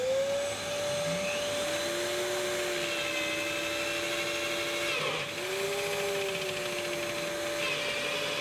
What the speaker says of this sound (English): I have fixed my vacuum cleaner next to the drilling machine, in order to collect a part of the sawdust directly.